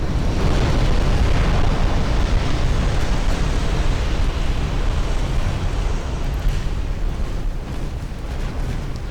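A warship's magazine flash fire explosion in UA: Dreadnoughts, a naval battle set in 1899, heard as one long, loud, roaring rumble that holds steady for about nine seconds with no voices.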